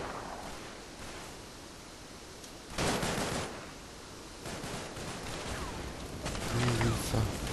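Suppressive gunfire in the World War II game Combat Mission Market Garden comes as bursts of distant rattling shots over a rough background noise, with one louder burst and scattered fire later.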